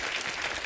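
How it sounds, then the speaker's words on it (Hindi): Studio audience applause on The Kapil Sharma Show greets actress Varsha Usgaonkar. It is a brief, steady, dense wash of clapping heard alone. "वर्षा उसगांवकर जी के लिए जोरदार तालियां हो जाए।"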